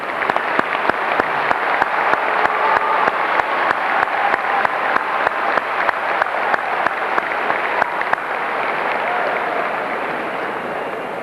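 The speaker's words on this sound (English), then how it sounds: "now's the time to applaud these graduates" A large audience applauds graduates at a 1994 Western Kentucky University graduation ceremony, loud sustained clapping from a big crowd in a hall with sharp individual claps standing out, easing slightly near the end.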